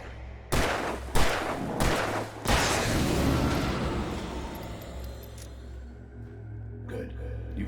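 Four sharp gunshots from a handgun in the survival horror game Alan Wake Remastered ring out about a second apart, loud and close, followed by a long rumbling echo that slowly fades.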